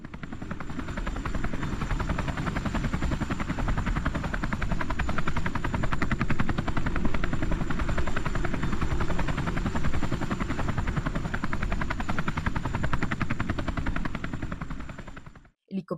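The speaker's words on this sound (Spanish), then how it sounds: "helicópteros sobrevuelan la zona, descienden cada vez más bajo sobre la selva, el ruido es ensordecedor" Military helicopters fly low over jungle, a loud, deafening rotor thrum with rapid chopping beats that holds steady throughout and cuts off abruptly at the end.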